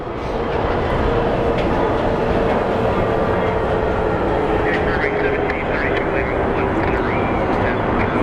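An Airbus A321 jet takes off at Phoenix Sky Harbor International Airport with a loud, steady engine roar that fills the whole stretch and carries a rising whine near the end; voices talk over it.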